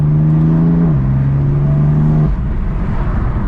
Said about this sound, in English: an exhaust tends to be raspy, but I like how this one sounds